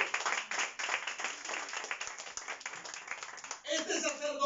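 Congregation clapping in a church during an evangelical sermon: dense, fairly loud clapping for a few seconds, mixed with voices, before a voice briefly speaks over it at the end.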